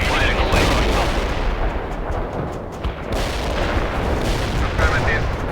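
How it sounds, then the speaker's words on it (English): Mortar barrage in World in Conflict: a dense, continuous rumble of booming impacts and crackling blasts rolls on throughout, loud and close, with no pause in the bombardment. "Mortar barrage delivered."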